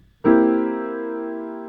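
A single piano chord, C with an added flat seventh, struck once and left to ring, its full tone sustaining and fading slowly.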